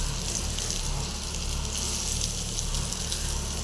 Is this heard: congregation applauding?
no